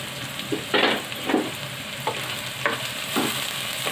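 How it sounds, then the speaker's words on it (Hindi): Onions frying in a pan on the stove, a steady sizzle under repeated scraping stirs every half second or so, close and alone without talk. "प्याज फ्राई होना शुरू हो गया है।"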